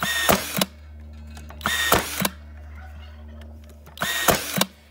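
A Ryobi One+ AirStrike 18V cordless nail gun fires three short, sharp mechanical bursts spaced a couple of seconds apart, with a faint background hum between them.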